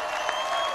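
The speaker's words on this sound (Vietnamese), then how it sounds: "trong tiếng reo hò của người dân" Outdoor crowd cheering and applauding during the Salute to America Independence Day celebration on July 4th 2019, a brief, dense, even roar of many people.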